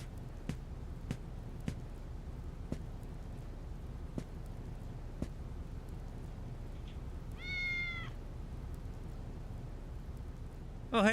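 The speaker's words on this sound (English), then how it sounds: "Oh, hey, Cat" A cat in the video game Digital Devil Saga gives a single short meow midway through, heard over a quiet background with scattered soft taps and a low hum.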